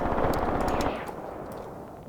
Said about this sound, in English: so that must mean these are 5 cm mortars shooting at the enemy